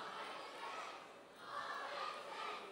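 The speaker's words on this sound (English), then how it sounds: "You hear them. They're cheering for you." Crowd at a charity gala cheering and clapping in two swelling waves, a broad roar rising, easing slightly, then building again.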